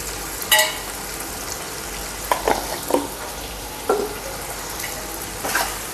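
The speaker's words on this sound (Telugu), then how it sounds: "బాగా మిక్స్ చేసుకోవాలి ఇదంతాను" Chicken masala powder and a little turmeric are stirred into Andhra-style chicken biryani in a village kitchen, with a steady low sizzle broken by a few sharp scraping strokes of the spoon.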